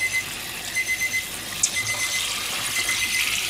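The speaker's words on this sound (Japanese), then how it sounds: "お、ピピピピが鳴りました。" A kitchen timer beeps while oden simmers in a home kitchen, a quick run of high repeated pips near the microphone over steady background hiss.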